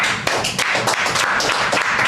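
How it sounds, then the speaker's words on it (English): An audience applauds a guest named Joe Gamboa at a live business question-and-answer show, the clapping dense, steady and fairly loud throughout, with sharp individual hand slaps standing out. "Let's clap it up for Joe."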